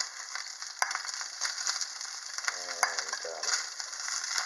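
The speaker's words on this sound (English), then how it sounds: "Okay, so got the meat cooking," Meat cooking with kimchi on a small penny stove, a steady bright sizzle throughout with occasional sharp ticks and stirring, close and fairly loud, with a brief spoken word.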